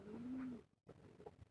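Young domestic pigeons on a small home farm coo once, a steady low hum held for about half a second, then a brief silence and softer murmuring calls nearby.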